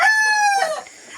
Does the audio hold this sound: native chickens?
yes